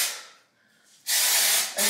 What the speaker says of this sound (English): I need to spray some of this.